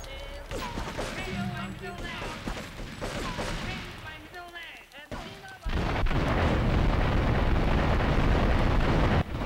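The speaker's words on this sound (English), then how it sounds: "And kaboom! Goodbye to the Triad's fish factory." A loud roaring blast in Grand Theft Auto III destroys the Triad's fish factory, a sustained rumbling explosion following game sounds and talk.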